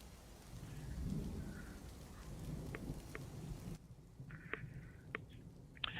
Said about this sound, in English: It's apparently raining.